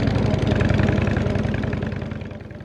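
A motorcycle engine idles and runs steadily in a large mountain car park beside a dam, a loud, close, even pulsing rumble that gradually fades slightly toward the end, with no voices.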